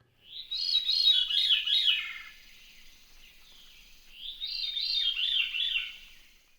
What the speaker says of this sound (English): The veery, which tends to be rather rufous-toned without much spotting below, has a song that spirals downward